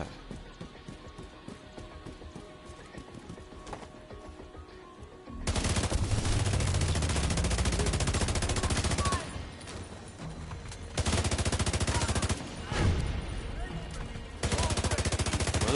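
Sustained bursts of automatic gunfire in The Division 2, loud and dense in several long stretches separated by brief lulls, with quieter game ambience and talk beforehand.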